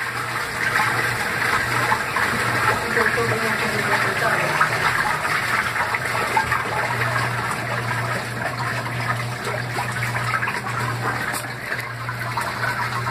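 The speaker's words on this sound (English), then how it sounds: "It's doing the final rinse with softener." A washing machine fills and churns during its final rinse with softener, giving a steady rushing water noise with a low mechanical hum throughout.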